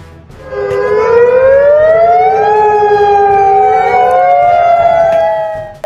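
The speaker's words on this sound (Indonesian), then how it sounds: "sirine gelombang tinggi berbunyi serentak di wilayah pesisir" A loud outdoor tsunami warning siren wails on the coast, its pitch climbing and then sliding down again, heard alone without any talking.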